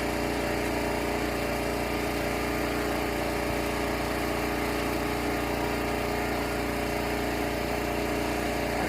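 A generator engine runs steadily beside a community water well, a constant loud mechanical drone with no pauses throughout.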